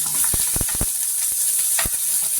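Sliced onions sizzling in a pan for mushroom dosa, a steady loud hiss of frying punctuated by several sharp clicks and taps of a spatula, close up with no talk.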